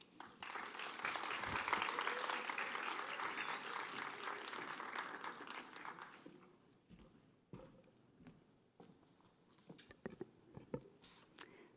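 Audience applause welcoming a keynote speaker to the stage at a talk on creativity: dense, steady clapping for about six seconds, then thinning into scattered claps and stray noises.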